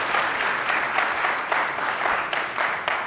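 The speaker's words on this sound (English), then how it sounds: "Can I get a warm applause for Greg and Andrew?" Audience applause at a tech conference session on cost excellence and compute optimization, welcoming two speakers to the stage: a steady, dense wash of clapping from a sizable crowd, sustained throughout with a few sharper individual claps.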